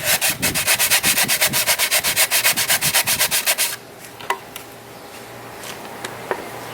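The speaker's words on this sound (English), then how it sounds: "And this is the way to properly sand the inside of your wing." Sandpaper rubs rhythmically inside a Go Foil hydrofoil wing in quick, even back-and-forth strokes for several seconds, then stops, leaving faint scattered taps and handling noise.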